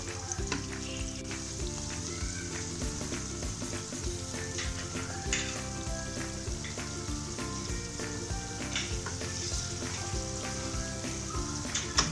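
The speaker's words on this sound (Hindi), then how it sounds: "जब तक प्याज हमारा फ्राई होता है" Onions fry in oil for chicken haleem, producing a continuous, dense sizzle with soft stirring scrapes, close and steady throughout with no talking.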